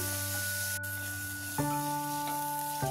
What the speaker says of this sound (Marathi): थोडासा आपल्याला 3-4 मिनिटे हा कांदा चांगला इथे परतून घ्यायचा आहे